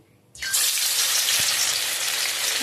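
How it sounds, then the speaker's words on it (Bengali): Chicken pieces dropped into hot oil in an iron wok, bursting into a sudden loud, dense sizzle that holds steady and close without any talking. "ব্যাস, তেলটা গরম হয়ে গেছে। এবার চিকেনগুলো ভেজে নেবো।"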